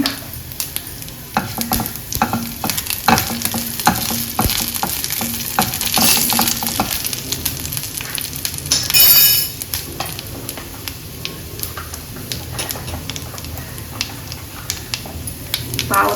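Cumin seeds sizzle in hot oil, making a continuous crackling fry with scattered clicks and a short louder burst partway through, close by and with no talking.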